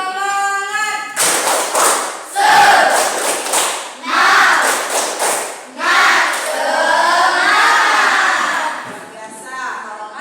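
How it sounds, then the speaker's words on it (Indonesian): A school class performs a rhythmic Indonesian spirit clap, with bursts of group clapping and thumps in patterned beats alternating with children's voices chanting together, close and loud. "Kita tepuk semangat dulu ya."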